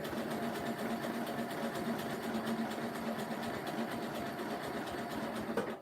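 A sewing machine stitching a rope basket, a continuous fast mechanical whirring hum with rapid needle clatter, close and steady, stopping right at the end.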